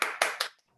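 Three quick bursts of audience applause at an academic thesis competition award announcement, close and fairly loud, each clap burst fading rapidly into silence.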